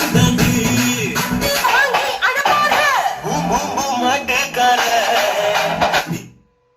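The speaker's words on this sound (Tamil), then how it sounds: "4 ஸ்பீக்கரும் இப்போ எப்படி சவுண்ட் வந்து ரன்னிங் விட்டு பார்க்கலாம்." Music with a strong voice and bright melodic lines blares through four new 10-inch woofer speakers during a sound test, loud and continuous before cutting off abruptly near the end.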